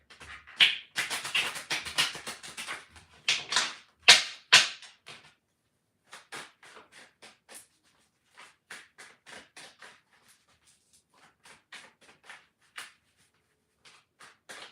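A deck of cards is shuffled close up: a dense run of quick flicking clicks over the first few seconds, then scattered single snaps and taps, with no voices.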